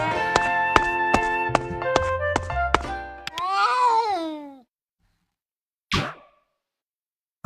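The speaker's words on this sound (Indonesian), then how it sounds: "Apa itu? Teriakan kucing?" Cat yowling in the video game A Space For The Unbound, a drawn-out wavering cry after a stretch of plinking game music, followed by silence and a brief sharp sound.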